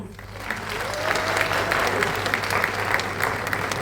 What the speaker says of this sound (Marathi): तो डिझर्व करतो जोरात टाळ्या